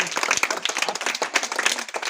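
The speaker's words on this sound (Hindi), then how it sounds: "बहुत बढ़िया, ताली बजाओ इनके लिए।" Clapping from a group of children praised for correct answers, a brief dense patter of many hands, close and fairly loud throughout.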